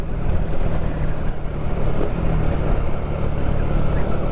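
Motorcycle engine rumbling steadily while engine braking downhill on a cool mountain road toward Baguio City, with continuous wind buffeting the microphone and no voices.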